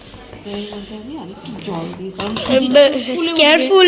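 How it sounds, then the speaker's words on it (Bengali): A spoon scrapes and clinks in a pot while idli batter is stirred with salt, steady metallic scraping that grows louder and busier toward the end, with someone talking over it. "সল্ট দিয়ে একটু মিক্স করে দেখো"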